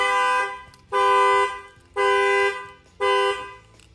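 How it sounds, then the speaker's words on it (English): A Dodge Charger's factory alarm sounds, honking the car horn in four loud, evenly spaced blasts of about half a second each, close by with no one talking. "So any banging on them will fire off the factory alarm."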